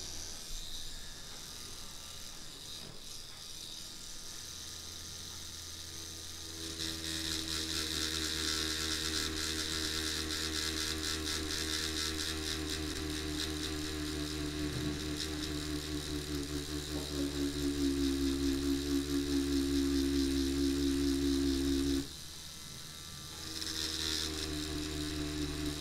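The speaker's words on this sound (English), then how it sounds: "Here the machine is bogging down a lot." An OG Produce Terminator trimmer machine runs with a loud steady motor whir and hum, its pitch shifting and straining as the load increases, then dipping briefly before picking back up.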